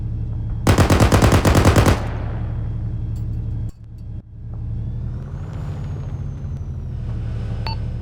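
Rapid automatic rifle fire in a game firefight, a loud sustained burst of about a second over a steady low engine-like rumble, then only the rumble with faint distant pops.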